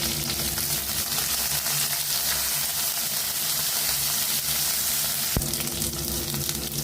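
Small onions, curry leaves and fenugreek sizzle in hot oil in a pan for a garlic kuzhambu, a continuous close frying crackle with one sharp clink partway through.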